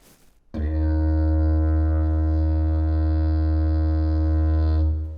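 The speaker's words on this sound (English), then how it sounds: "the main sound that you're going to hear on a didgeridoo is the sound of the drone" A didgeridoo sounds a single deep, steady buzzing drone, loud and close, sustained for about four seconds after a quiet start before stopping.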